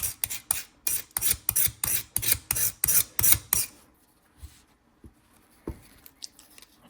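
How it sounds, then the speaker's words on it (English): A razor blade scrapes repeatedly across a screwdriver in about a dozen quick, rasping strokes, then stops, leaving a few faint taps and knocks. "I'm just taking a razor blade and I'm just scraping all that junk off of there"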